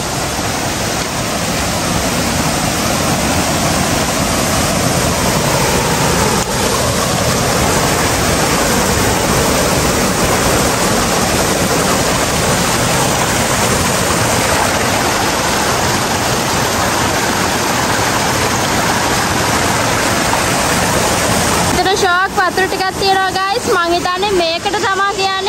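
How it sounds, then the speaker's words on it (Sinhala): Water flowing over a forest trail crossing in the Knuckles range near Duwili Ella, a steady loud broadband rush filling the scene from start to finish, with a brief shift near the end as nearby sounds change. "මේ පාරේ පල්ලෙහාට වෙනකොට මෙන්න මේ වතුර පාර හම්බ වෙනවා ඊළඟට"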